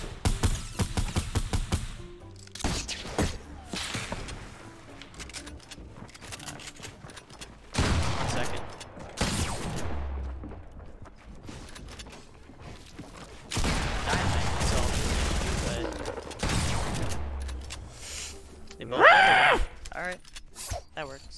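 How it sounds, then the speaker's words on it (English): Fortnite battle royale gunfire in rapid bursts and sustained fusillades, loud and dense with gaps between volleys, while players talk over the shooting. "I'm getting shot at."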